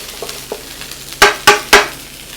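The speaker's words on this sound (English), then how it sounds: "I like to make a hole, push all the rice off to the sides," Fried rice scraped to the edges of a hot pan with a utensil: three loud scraping strokes over a steady sizzle, preceded by a couple of lighter taps, with no talking.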